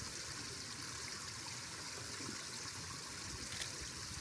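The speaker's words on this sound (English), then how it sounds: "a little bit of the water flowing down here at the base." Water trickles and flows at the base of a beech tree near an icy waterfall, a faint, steady, even wash of sound with no break.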